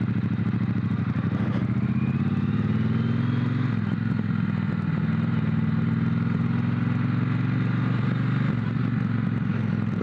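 A Triumph Bonneville Bobber motorcycle engine drones steadily and loudly while riding, its low rumble shifting pitch slightly as it pulls through a tall first gear, with wind and road noise throughout.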